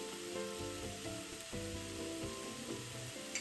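Minced meat filling with seasonings being stir-fried in a wok for a crystal cake, a steady quiet sizzle with scraping stirs, no voices.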